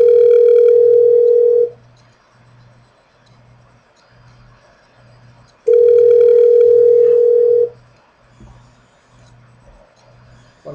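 Outgoing phone call placed from a computer through Google Voice, heard as a loud steady ringback tone in two long bursts separated by a quiet pause, with a faint pulsing hum underneath.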